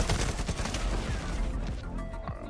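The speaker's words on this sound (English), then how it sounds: "And I'm using my AK." Rapid AK rifle fire in Modern Warfare rattles in dense, continuous bursts of loud sharp cracks, close and busy, thinning slightly toward the end.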